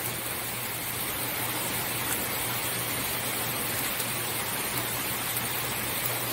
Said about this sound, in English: We're just watching the rain here.